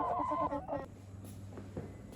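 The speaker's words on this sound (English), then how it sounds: "So just about to move 10 chickens into here." Farm chickens cluck and murmur nearby before processing, with a burst of calls at the start that fades into quieter background clucking.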